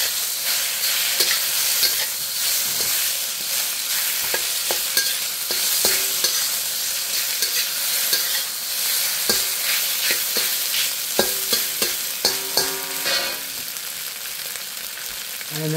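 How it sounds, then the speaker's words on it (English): Chicken breast being stir fried for Pad Thai, with steady loud sizzling and repeated clattering stirring strokes from start to finish. "Just keep on stir frying it,"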